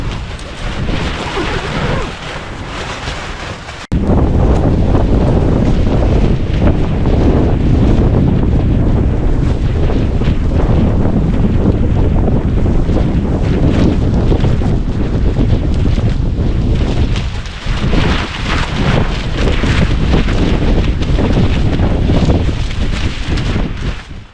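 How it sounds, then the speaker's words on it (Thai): Strong night wind at a tent campsite at Phu Hin Rong Kla in Phitsanulok buffets a microphone with loud, continuous roaring gusts that barely let up, and there are no voices. "ลมแรงทั้งคืนเลย"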